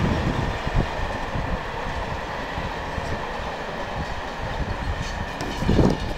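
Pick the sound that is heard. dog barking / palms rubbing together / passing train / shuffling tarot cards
passing train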